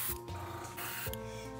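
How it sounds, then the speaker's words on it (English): An airbrush sprays paint at a low pressure of about 15 psi while custom-painting a fishing popper lure, giving a steady close-up hiss that runs the whole time with a slight break partway through. "That way I'm not spraying so much paint and I can spray right on this little gill right here"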